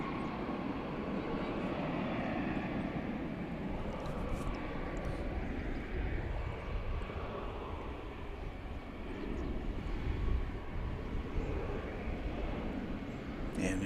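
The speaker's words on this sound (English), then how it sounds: "This will be an Embraer 175" An American Envoy Embraer 175 airliner at DFW on runway 18 left, a continuous broad engine roar that stays loud and steady, heard from a distance with faint talk underneath.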